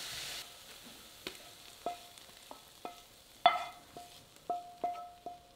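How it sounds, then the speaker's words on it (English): Minced garlic with salt and pepper fries in a pan for a salt and pepper ribs topping, a quiet sizzle broken by a series of spaced clinks and scrapes as it is stirred around the pan. "Now fry them all together, move them around the pan constantly and cook for about 1 to 2 minutes."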